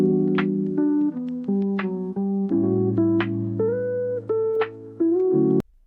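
An AI-generated song plays, with sustained synth-like chords shifting every half second or so, bright accents over a steady low drone, loud and continuous before cutting off abruptly.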